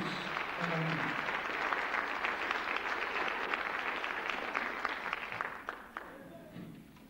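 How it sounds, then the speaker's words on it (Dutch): Lively audience applause at a church choir gala concert, welcoming a soloist onto the stage; dense steady clapping fills the hall throughout and tapers slightly toward the end. "die soliste Kurt Hooft kwam ons verwelkom hem ook op die verhoog met een lekkere applaus"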